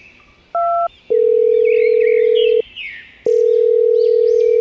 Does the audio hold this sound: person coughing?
no